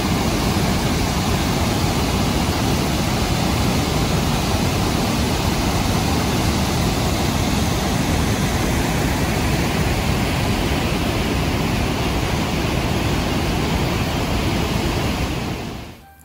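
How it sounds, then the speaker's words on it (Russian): A small river rushes steadily in a loud, unbroken broadband roar, close and constant with no voices, then cuts off sharply at the end. "Немножечко о самой речке. Очень приятный звук."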